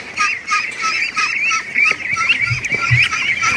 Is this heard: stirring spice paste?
no